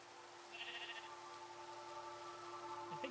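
Sheep bleating in the video game Minecraft, a soft, moderately quiet bleat over a steady ambient background, with faint game sounds near the end.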